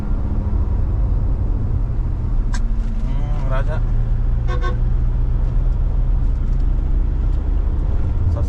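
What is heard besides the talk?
Toyota Innova engine loud at high RPM in fifth gear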